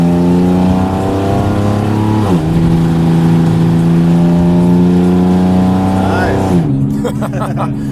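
Nissan 350Z or 370Z sports car engine revving loudly up and down, with sharp throttle blips and a falling rev near the end, close by with people talking over it.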